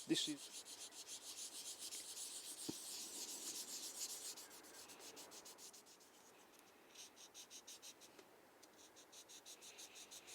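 Fine sandpaper rubs down a part of a Tamiya Honda CB750F scale model with quick, rhythmic back-and-forth strokes, close and faint, pausing briefly partway before the scratchy strokes resume.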